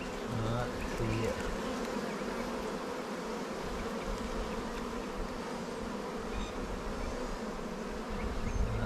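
Honey bees swarm-buzz continuously during removal of a colony from a log, a dense steady drone close around, faint and unbroken.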